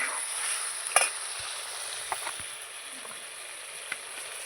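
Ridge gourd, potatoes and spices fry in a pan with a steady broadband sizzle. A few faint scrapes and knocks of stirring come through at a close, moderate level.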